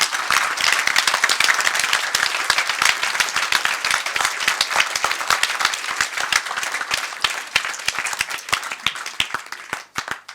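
The audience at the closing ceremony of a film festival in Brive applauds the projectionists. The clapping is loud, sustained and crisp and continues for about ten seconds before tapering off.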